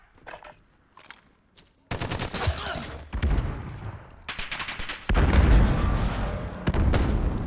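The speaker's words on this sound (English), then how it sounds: "Taking fire!" Gunfire in the video game Call of Duty: Modern Warfare: after a few quiet scattered shots, loud sustained bursts of automatic fire erupt and keep rattling, with heavy booming impacts near the end.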